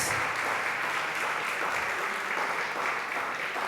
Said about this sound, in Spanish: Denle otro fuerte aplauso al Rey de Reyes